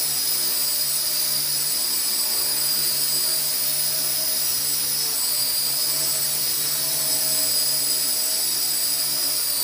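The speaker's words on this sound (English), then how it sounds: "The gyros are holding very well, and it's very easy to fly." Steady high-pitched whine of small rotors buzzing continuously, a homebuilt Y tricopter hovering indoors, with no voices.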